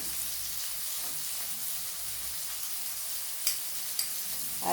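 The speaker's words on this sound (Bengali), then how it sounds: "সামান্য একটু লবণ দিয়ে দেবো, এতে করে পেঁয়াজটা খুব তাড়াতাড়ি ভাজা হয়ে যাবে।" Onions with a pinch of salt sizzle steadily in hot oil in a pan, a close, even hiss that runs throughout, with a couple of faint stirring clicks near the end.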